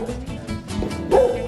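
A dog barks in short, close, loud yips and bow-wows, a few quick calls ending in a higher whimpering yelp.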